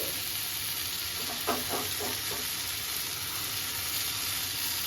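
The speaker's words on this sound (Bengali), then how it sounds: "এবার এটার মধ্যে আমি দিয়ে দিব যে গোটা গোটা মাছ রেখেছিলাম হলুদ লবণ মাখিয়ে, সেটাকে আমি দিয়ে দিচ্ছি।" Whole lote (Bombay duck) fish coated in turmeric and salt go into a hot pan, raising a steady sizzling hiss with a brief burst of crackling as they land; no talking.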